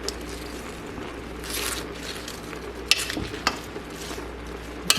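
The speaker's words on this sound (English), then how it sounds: "Just get it all stirred around." Cabbage fries with sausage and shrimp in a pan, a steady soft sizzle with a utensil stirring and scraping through it and a few sharp clicks against the pan.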